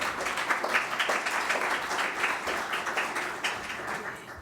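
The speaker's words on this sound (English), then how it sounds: "the community of science deserves a huge round of applause." Audience applause at the launch event of the International Pathogen Surveillance Network, with many hands clapping in a busy, even wash that stays fairly loud for a few seconds before easing slightly.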